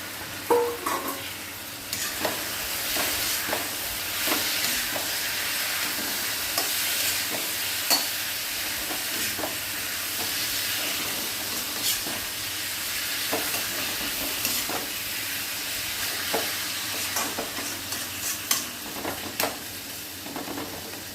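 Marinated chicken, coated in vinegar and turmeric, sizzling steadily in a pan while a spoon stirs it, with frequent scraping clicks over a continuous loud frying hiss, heard up close.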